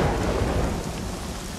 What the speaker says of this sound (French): on rajoutera la pluie en effets spéciaux